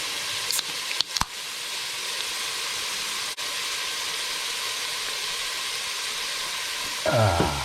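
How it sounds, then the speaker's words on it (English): Onions fry steadily in a hot pan, a continuous close crackling hiss with a few sharp clicks, and a brief scrape near the end. "they've only been frying for a minute or two."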